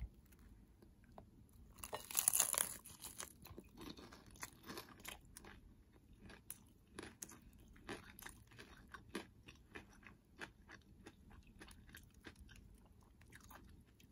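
Loud crunching bite into a crisp-fried tortilla of a vegetarian hibiscus birria taco, followed by steady close-up chewing with small crunches for several seconds, no talking.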